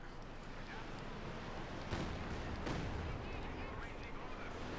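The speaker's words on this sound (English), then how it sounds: "There you go, Katyusha fire." Katyusha rocket artillery firing in a Company of Heroes 2 match, a dense rumbling barrage with two stronger bursts standing out amid continuous battle noise.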